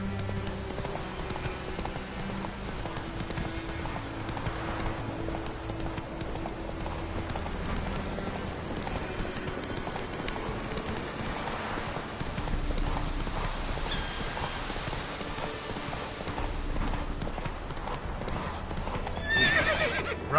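Horse hooves clip-clop at a steady gallop in a PS4 video game, with a loud whinny and neighing breaking through over the continuous game soundtrack.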